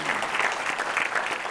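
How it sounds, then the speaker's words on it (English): An audience at an education conference panel, SXSWedu 2014, applauds with dense, even clapping that fills the whole short moment at moderate loudness. "Let's give her a big round of applause."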